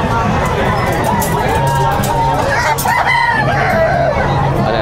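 Rooster crowing amid clucking fowl at a busy pet market in Bocaue, heard through a constant loud babble of people talking nearby, the crow rising briefly above the crowd noise.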